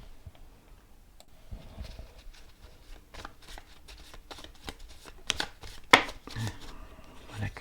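Tarot cards laid out on a table for a spread of five cards each covered by three more, with soft close card slaps, slides and taps in an irregular run, no talking.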